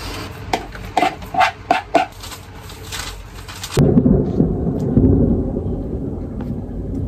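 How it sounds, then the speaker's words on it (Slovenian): Thunder rumbles low and heavy through steady rain during a summer storm, following a stretch of clinking kitchen sounds that stop abruptly, with the deep rolling roar lasting to the end. "Ko grmi."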